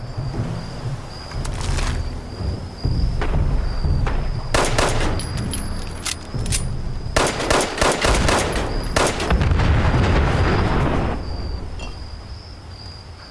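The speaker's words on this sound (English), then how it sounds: "who doesn't like a good explosion?" Fallout 76 game combat with repeated bursts of gunfire, clusters of sharp rapid shots and booming blasts over a steady high-pitched insect-like ambient hum, loud and close.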